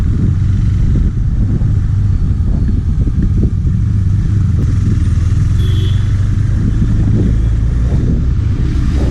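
A KTM Duke 390 BS6 motorcycle engine rumbles steadily while riding, a loud continuous low thrum with wind and road noise, no talking.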